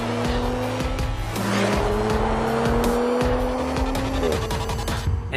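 An Audi RS 5 Coupé with a 2.9 TFSI V6 is driven hard, braking and cornering. Its engine note climbs and drops through gear changes, and tires squeal and skid at close range.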